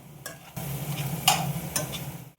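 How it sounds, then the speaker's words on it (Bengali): Spices and salt are stirred in a pan for pasta over a low sizzle, with a few short scraping strokes of a spoon against the pan, near and brief, ending in sudden quiet. "এখানে আমি একটু মিক্সড করলাম এগুলো"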